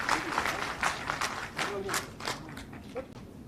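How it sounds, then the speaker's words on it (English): Participants at a one-day national seminar on the National Credit Framework clap for a professor, a short burst of scattered, distinct hand claps in a hall, with faint voices around them. "I request all participants to give a big clap to Professor Mangal Chandran"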